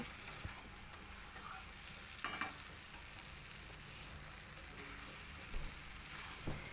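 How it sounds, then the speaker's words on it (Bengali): Jackfruit and potato sautéed with spice paste over low heat: a faint, steady sizzle and crackle, with an occasional scrape of stirring. "মিনিমাম 4 থেকে 5 মিনিট লো আঁচে মশলাটার সঙ্গে কিন্তু খুব ভালো করে একটু কষিয়ে নেব।"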